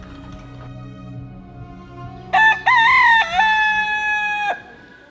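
A rooster crows once, loud and close, a single drawn-out call of about two seconds following a brief opening note, over quiet farmyard background.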